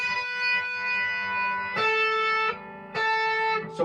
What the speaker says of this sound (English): So basically I'm flicking the string with my finger